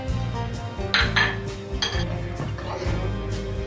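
A spoon stirs peas for ghugni in a metal pot, giving repeated clinks and scrapes against the sides over a low steady background hum, with no voices.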